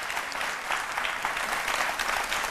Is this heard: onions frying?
no